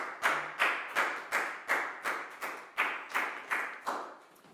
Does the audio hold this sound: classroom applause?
yes